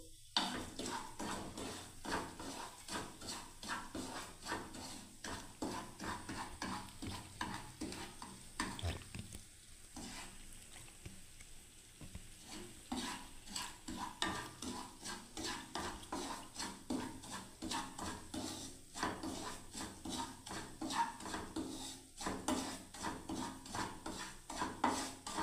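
Semolina stirred in a hot pan while browning for a ripe-mango dessert, a steady scraping and rasping of spoon against metal with faint sizzling, repeated close strokes running continuously with a brief pause midway.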